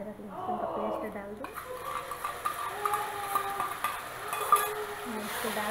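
A spoon scrapes and clinks in a pan as ginger garlic paste is stirred into fried onions. The paste lands with a soft hiss, then steady stirring and metal knocks continue, with someone talking throughout.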